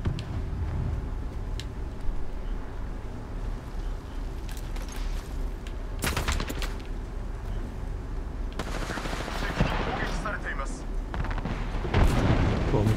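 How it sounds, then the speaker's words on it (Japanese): Thermite grenade in the Apex Legends shooter: a hissing, crackling burn with sharp bursts mixed into ongoing gunfire and game noise, plus a voice speaking over it. "テルミットグレネードを投げた。"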